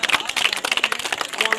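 Crowd applause at a ceremony for a village football final: dense, fast clapping runs throughout the short moment, with a voice speaking over it.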